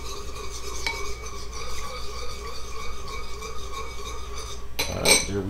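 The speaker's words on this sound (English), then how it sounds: "I'm just going to kind of stir it up, get it incorporated real good." Lemon juice being stirred into a melted mixture in a pot, heard as a low, steady scraping swirl with a faint hum underneath and a louder clatter of utensil against the pot at the close, with no talking.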